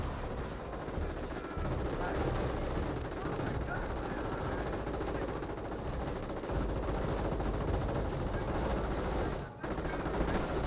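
Sustained gunfire in the World War II strategy game Company of Heroes, with dense machine-gun bursts and rattling small-arms fire rolling on without a break amid a loud, busy battle din, and a brief dip near the end.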